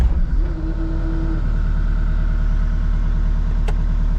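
A cold engine cranks, catches and settles into a steady, loud, close-up idle with an even low throb, a brief rising tone near the start.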